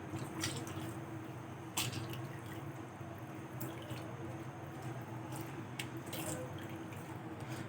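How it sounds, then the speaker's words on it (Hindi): Whey steadily dripping and trickling through a strainer as it drains from vinegar-set cheese curds for homemade pizza cheese, with occasional soft squishy splashes, close by and fairly quiet with no talking. "अब इसका पानी जो है वो निकाल लेंगे"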